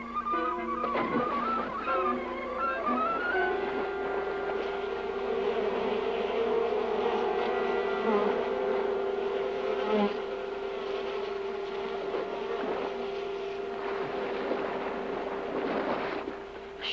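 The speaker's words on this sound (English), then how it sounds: "Must have been northern bees come down from the Dakotas for hiving." An angry swarm of bees drones in a dense, loud, continuous buzz that wavers in pitch as individual insects pass close, holding steady for the whole stretch with no voices.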